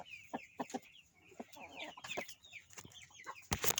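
Chickens cluck and squawk while pecking at pieces of bread held out by hand, a busy run of short close calls with brief gaps, ending in a sharp louder burst.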